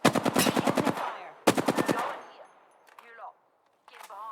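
Automatic gunfire in Apex Legends: two rapid bursts of close, loud shots in quick rhythm, each fading into a short echo, followed by quieter game sound effects.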